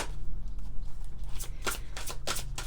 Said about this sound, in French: On va prendre quelques cartes de l'oracle E.